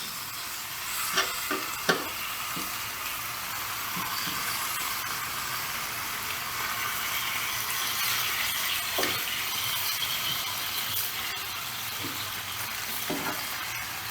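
Vegetables splashed with Worcestershire sauce sizzle loudly and steadily on a Blackstone griddle, a continuous close hiss and crackle with occasional scraping and stirring taps.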